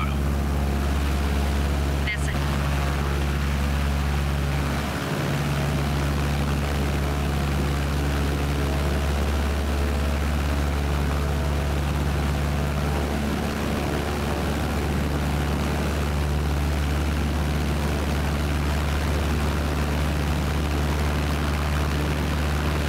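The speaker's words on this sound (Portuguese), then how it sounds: "estamos colocando no ar aqui o avião" Propeller airplane engine in Microsoft Flight Simulator, a steady low droning hum held at constant loudness through a takeoff, with someone talking intermittently over it.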